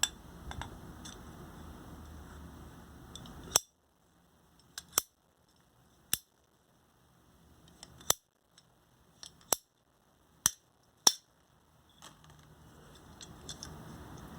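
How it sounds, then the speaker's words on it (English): Handheld pipe cutter clicking through a pipe: a steady low rasp first, then a series of sharp, isolated snaps and clicks spaced a second or two apart against near silence. "Today I will explain how to use this device to cut pipes."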